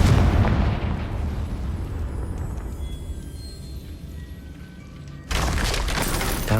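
A fiery Confringo spell explosion in Hogwarts Legacy on PS4 Pro erupts with a loud booming blast, decays into a rumbling, crackling tail, then a second heavy burst hits near the end.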